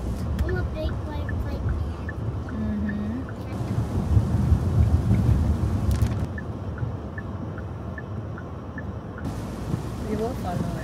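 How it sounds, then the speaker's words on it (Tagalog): Heavy rain falls in a thunderstorm, a broad constant roar with low thunder rumbles swelling midway; a voice speaks briefly over it and faint bird calls come through. "Lakas ng ulan, guys."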